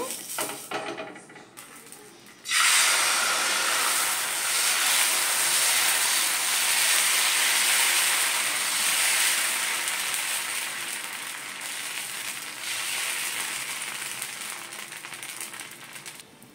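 Dosa batter hits a hot iron tawa and bursts into a loud, sharp sizzle that holds steady as a bright hiss, then slowly fades. Before it, the kitchen is quiet with a few small scraping sounds.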